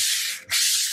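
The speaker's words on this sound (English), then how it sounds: "We take a 120 sheet of sandpaper and just cut it up to a size that fits into your hand" A 120-grit sheet of sandpaper rubs by hand along the grain of a wooden piece in two close, loud, hissing strokes with a brief pause between them.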